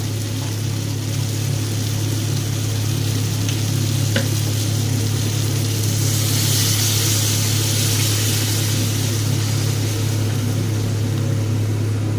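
Water added to frying masala for a pabda fish curry, giving a loud, constant hissing sizzle close up with a steady low hum underneath and no break.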